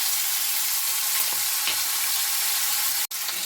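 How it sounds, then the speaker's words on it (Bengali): Ground ginger and green chili frying with cumin in a pan for a vegetarian jackfruit seed curry, an even close sizzle with light stirring scrapes and one sharp click near the end. "তখন আমি দিয়ে দেব আমার বেটে রাখা আদা আর কাঁচা লঙ্কা"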